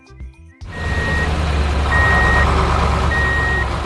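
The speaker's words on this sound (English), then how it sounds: "It is a concrete mixer truck on a mission." A concrete mixer truck with a rotating drum rolls at a construction site while its reversing alarm beeps in three evenly spaced, loud tones over a steady diesel engine rumble.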